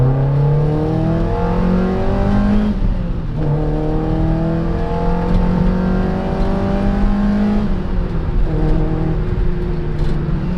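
A Mazda MX-5 fitted with an NB engine accelerates hard from second gear, its loud in-car engine note climbing in pitch, dropping at each upshift, then climbing again.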